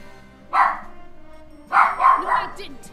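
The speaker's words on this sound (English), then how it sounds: "And there's the puppy." A puppy in the video game Disgaea 4 gives a short bark, then a quick series of three yappy barks, close and sharp against a faint game backdrop.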